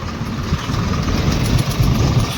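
A tractor engine runs steadily nearby, a continuous rough mid-pitched chug with slight vibration, alone without talk.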